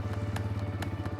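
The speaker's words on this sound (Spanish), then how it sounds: "freno un poco fuerte para mover la moto y colocarla y acelero un poquito más" A motorcycle idles close by with a steady, low pulsing throb, joined by a few faint clicks and clatters from the bike as a new rider prepares to pull away.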